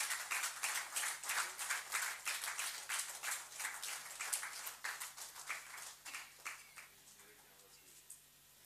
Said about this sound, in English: let's have a huge round of applause, everyone